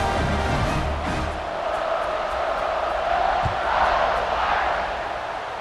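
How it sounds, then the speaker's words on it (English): Stadium crowd roaring steadily in EA Sports College Football 26 during a kickoff after a touchdown drive, a dense, sustained wash of cheering with a few swells and no clear voices standing out. "this crowd is feeling themselves after that last drive"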